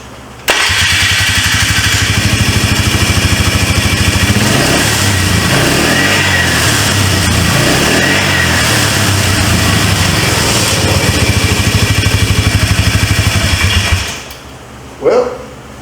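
A 2004 Polaris Trail Boss 330 ATV engine cranks and catches, then runs loud and steady with a buzzing, uneven idle for about fourteen seconds before shutting off, followed by a brief thump.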